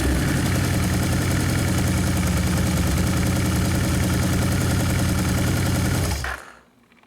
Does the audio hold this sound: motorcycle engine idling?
yes